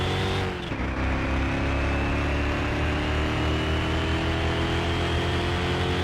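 A loud 1935 Ford truck engine roars up close, briefly dips, then pulls hard with rising pitch as the tires break traction in second gear, a steady heavy drone throughout.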